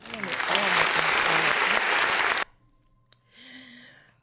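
Loud clapping mixed with cheering and a voice over it from a live radio show audience, then cutting off abruptly into near quiet and a few faint sounds.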